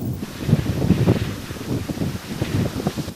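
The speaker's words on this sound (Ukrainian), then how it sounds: "Вітер доволі сильний і постійно змінює напрям" Strong, shifting wind buffeting the microphone in uneven gusts over sand dunes at the Oleshky Sands, with a rushing, roaring texture and no voices.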